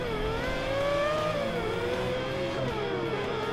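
Volkswagen Beetle engine in a Forza 5 drag race, a loud steady whining drone with rising and falling revs as the car accelerates hard, continuous with no talk.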